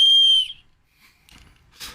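A shrill whistle built into a tactical shovel blown in one sharp, loud blast that cuts off abruptly, followed by faint handling noises and a short rustle.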